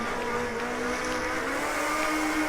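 Mercedes race car on a track, its engine revving hard and spinning its wheels as it shifts up into third gear; a loud, steady, close engine note rising slightly in pitch, with no talk.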